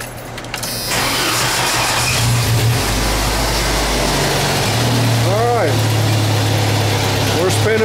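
A 1990 Jeep Wrangler in four-wheel drive with the fan on cranks and fires up, settling into a loud, steady idle with brief rising revs near the end, close by with a voice over it.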